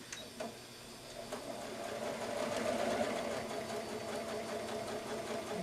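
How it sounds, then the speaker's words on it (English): A sewing machine stitches along a marked line while making a mitered fabric corner, giving a steady, close mechanical whir and patter that holds evenly for several seconds with no one talking. "go back to your sewing machine. You want to sew directly on the line that you just created."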